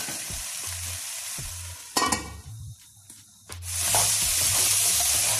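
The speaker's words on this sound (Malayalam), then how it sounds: "അതും ഈ ചിക്കനോടൊപ്പം ചേർത്ത് നന്നായി ഇളക്കി കൊടുക്കണം" Chicken stew sizzles in a pan as the pieces are stirred with added ingredients. Scraping bursts and clanks cut in, the hiss drops briefly to a quieter lull, then it returns stronger and steady.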